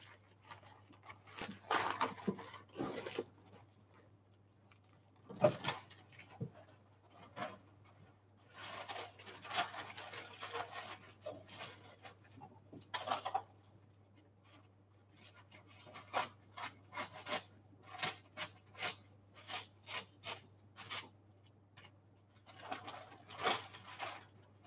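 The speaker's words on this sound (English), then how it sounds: "Sorry, I have to cut my papers. I use the unbleached mulberry paper." Scissors snip unbleached mulberry paper in a series of soft, dry cutting strokes and rustles, some in quick clusters and some spaced apart, close by and fairly faint over a low steady hum, with no talking.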